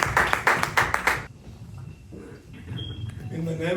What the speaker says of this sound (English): Please give him big rounds of applause